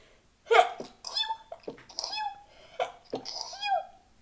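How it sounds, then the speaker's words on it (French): A series of short, sharp sneezes and snorting breaths from one person, several bursts in quick succession, close by with no talking. "j'arrête pas d'éternuer ces derniers temps"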